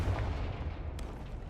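A Confringo fire spell blast from Hogwarts Legacy lands as a deep, thudding boom with a low rumbling decay, close and moderately loud.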